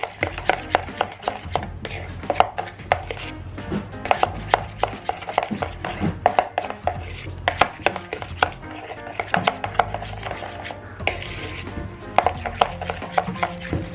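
Whipping cream mixed by hand in a bowl set over an ice bath: a continuous rapid series of sharp scraping, tapping strokes against the bowl, loud and close, with no talk.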